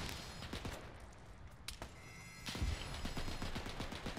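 Springfield rifle fire in a World War II firefight in ArmA 3, with repeated sharp shots cracking amid a busy backdrop of distant gunfire and a louder burst partway through.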